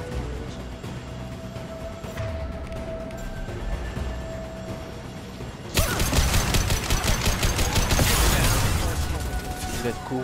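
Gunfire in the sci-fi shooter Mass Effect 2: Legendary Edition on Xbox Series X, starting as scattered shots under game dialogue and then becoming a loud, dense stream of rapid automatic fire in the second half.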